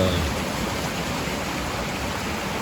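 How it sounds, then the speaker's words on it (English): A creek along the Pacific Crest Trail gives a steady, close rushing wash of flowing water with no clear voices. "lovely creek right here."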